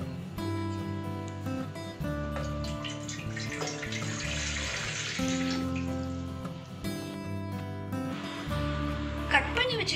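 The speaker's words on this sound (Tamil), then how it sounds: "இந்த கப்பில் 3 கப்பு தண்ணி ஊற்றி இப்போ கொதிக்க வைக்க போகிறேன்." Three cups of water run and splash steadily into a pot for boiling over several seconds, with music playing throughout.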